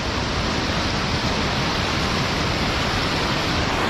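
Cold mountain stream water rushing at Kedarnath, a dense, loud and unbroken roar of flowing water close by.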